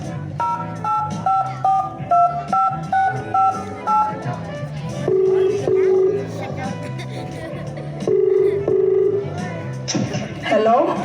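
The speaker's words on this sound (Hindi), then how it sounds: "इस नंबर पे डायल करती हूँ मैं अब।" Mobile phone keypad tones as a number is dialed, a quick series of short, evenly spaced beeps at moderate loudness, with background voices and music underneath in a street-play setting.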